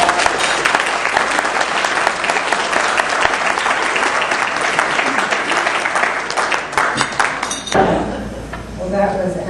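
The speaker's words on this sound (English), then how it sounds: "Let's give her a round of applause." Audience applause at a church anniversary celebration, dense steady clapping filling the room for about eight seconds before it fades and voices begin to speak.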